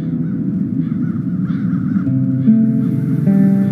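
Crows caw in the adventure game The Dark Eye: Chains of Satinav, harsh, repeated calls close by and fairly loud with no talk over them.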